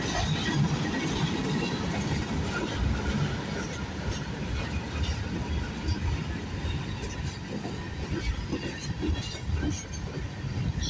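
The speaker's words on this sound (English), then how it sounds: "This is a big train." A long CN freight train rolls past the VIA station in Sarnia, Ontario, a close, steady rumble with continuous clattering wheels throughout.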